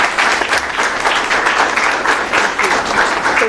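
Steady applause from a crowd at an opening ceremony as a gift is presented, dense and sustained clapping throughout at a fairly loud level, with no talking.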